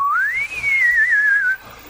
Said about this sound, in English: do the whistling